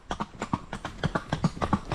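A horse walks with a quick, light gait, its hooves clip-clopping in a steady run of about a dozen sharp, close knocks over two seconds.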